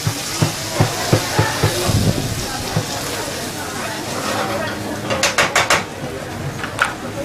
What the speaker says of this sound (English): I'm just going to add that to the pan. Just stir through with the shallot.